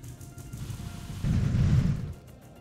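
Vulcan cannon fire in the space game Star Valor, a dense low rumbling barrage that swells loudly mid-clip for under a second before fading, with no voices.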